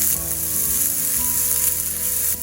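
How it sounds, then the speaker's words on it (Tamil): Chopped green chili and a small onion hit hot oil with popped mustard seeds while cooking plantain puttu, giving a loud, steady, continuous sizzle from start to finish. "கடுகு நல்லா வெடிச்சதுக்கு அப்புறமா இதுல ஒரு பச்சை மிளகாய் காரத்துக்கு, அதே மாதிரி ஒரு சின்ன சைஸ் வெங்காயம்"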